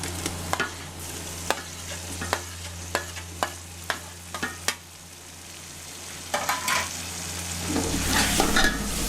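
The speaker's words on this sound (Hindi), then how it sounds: "और अच्छे तरीके से फ्राई कर लेंगे।" Chopped tomatoes and green chillies fried and stirred for chicken biryani: a steady run of crisp spoon knocks against the pan, then a swelling hiss of sizzling oil toward the end, close and with no talking.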